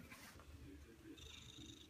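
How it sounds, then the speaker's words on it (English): A domestic cat purrs up close at night in a bathroom, a soft continuous low rumble that runs steadily through the short moment with light background noise. "He's purring."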